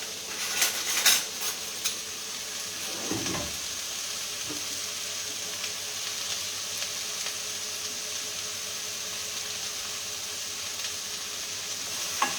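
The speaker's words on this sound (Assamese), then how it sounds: "এইখিনি এতিয়া মই 2 মিনিটমান ভাজি ল'ম" Chopped cucumber sizzles steadily in a hot pan, a continuous close frying hiss with a few scraping stirs near the start and no talking.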